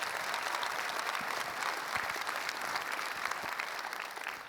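Audience at a conference closing session clapping continuously, a dense even wash of many hands heard from within the hall, steady throughout.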